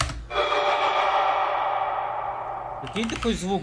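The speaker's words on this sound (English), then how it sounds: "I have a vocal riser that I made out of the group vocal sounds," A Warframe ability vocal riser built from group vocal sounds: a swelling wash of layered voices rises steadily into a sustained, airy drone, ending with a burst of warbling, pitch-bending tones.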